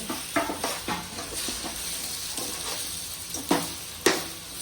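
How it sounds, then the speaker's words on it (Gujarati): Ingredients for muthiya being mixed in a bowl, a soft run of scraping and stirring strokes with a few sharper knocks of the spoon against the vessel, fairly quiet and close. "ચલો હવે મિક્સ કરી દઈએ."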